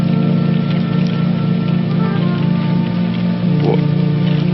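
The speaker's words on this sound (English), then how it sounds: "It's still raining." Rain keeps falling around an awning, a steady dense wash of drops with a strong low hum underneath, loud and unbroken for several seconds with no talking.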